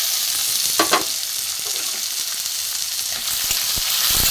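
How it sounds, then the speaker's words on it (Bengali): Onion, tomato, garlic and green chili fry together in a pan, giving a steady, close sizzle with a few sharper crackles and stirring scrapes and no voices. "এখানে পেঁয়াজ, টমেটো আর রসুন ভাজা হয়ে গেছে।"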